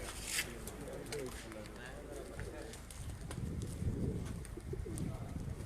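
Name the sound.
pigeons cooing on a rooftop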